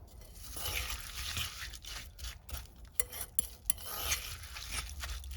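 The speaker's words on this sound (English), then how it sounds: "Mix everything well together. I'm just using my fork." A fork stirs thick cookie dough of mashed banana, rolled oats, dark chocolate and tahini in a bowl, giving steady close scraping and soft squelching with a few sharp clicks of metal against the bowl.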